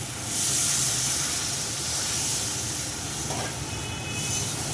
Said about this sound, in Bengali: এবার আমি দিয়ে দেবো আমার আগে থেকে গরম করে রাখা গরম জলটা